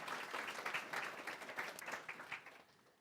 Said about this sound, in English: we'll give them a bit of a clap before we start